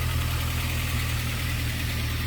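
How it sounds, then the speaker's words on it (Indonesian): A used car's engine, fitted with a racing exhaust, idles after being started, producing a steady, even low rumble with a broad hiss throughout, close and continuous with no talk. "Ini mesinnya udah nyala ya. Kalau mesinnya halus normal."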